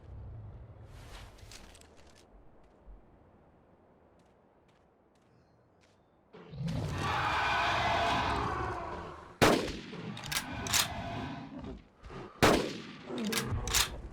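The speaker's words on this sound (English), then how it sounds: "Okay, that was only 2 shots that time." Gunfire in the video game Carnivores Dinosaur Hunt: after a quiet stretch a loud sustained burst of noise, then two sharp, close shots a few seconds apart followed by fainter echoing cracks.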